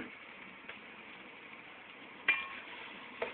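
Onions frying in a pan give a steady, fairly quiet hissing sizzle, broken by a couple of sharp clinks of a utensil against the pan near the end.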